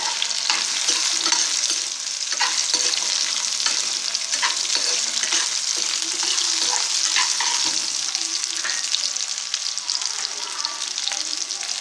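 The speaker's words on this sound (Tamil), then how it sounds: "எண்ணெயிலேயே நல்லா வேகிற அளவுக்கு வதங்கணும்" Carrots sautéing in oil with garlic and tamarind, a loud, continuous sizzle close by with frequent stirring scrapes, and no talking.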